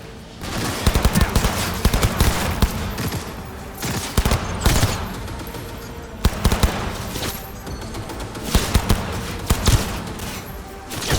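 Gunfire in the Cyberpunk 2077 video game, with rapid bursts of automatic shots and sharp single reports in uneven clusters over a constant rumbling background.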